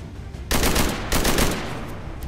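A burst of gunfire in XCOM 2 with a Call of Duty Modern Warfare mod, a shot that misses its target: two loud, close bursts, one starting about half a second in and another near the one-second mark, each trailing into a rumbling tail.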